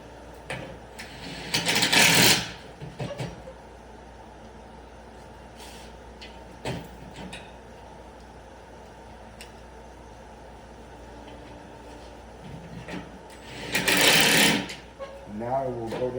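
A power tool runs in two short bursts, early and near the end, driving and tightening 3/8 fasteners while re-slinging a 5A20 unit; it sits close and loud, with quieter handling clicks and knocks in between.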